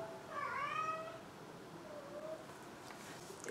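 A young cat meows in the background, a couple of rising and falling harmonic calls early on and a fainter one later, fairly quiet against a low room hum.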